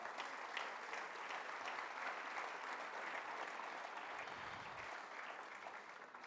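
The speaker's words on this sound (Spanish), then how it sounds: "Denle fuerte aplauso al Señor." A church congregation applauds in a steady, continuous wash of clapping that sounds fairly distant and soft, with a faint murmur of voices mixed in.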